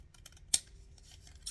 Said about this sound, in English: cutting of the coffee stained paper